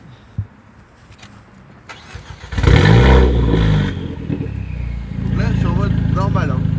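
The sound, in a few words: Renault Clio 4 RS Trophy stage 2 engine starting and revving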